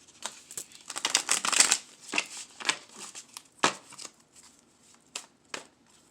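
Tarot cards are shuffled in several quick riffling bursts separated by short pauses, close and crisp with soft slaps between.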